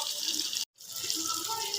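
Water pours from a tap into a crab masala mixture being prepared for a home-cooked crab fry, a close, steady splashing stream that cuts off briefly, then resumes.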